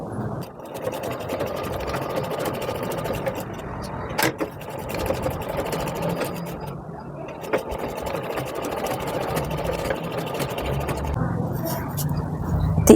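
A sewing machine runs steadily while stitching tucks into a blouse at quarter-inch spacing, a continuous mechanical hum with brief pauses, heard close under a voice talking through the step.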